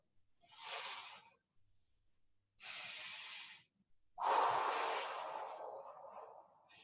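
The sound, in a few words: deep breathing in and exhaling during exercise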